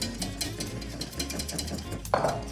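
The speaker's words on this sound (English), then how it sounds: "I go back the other way, and I'm whisking like heck" A whisk beats lemon meringue pie filling in a bowl with quick, rhythmic strokes, scraping and clicking against the sides. The sound stays close and steady, with a brief sharper clatter near the end.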